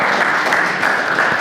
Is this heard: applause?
yes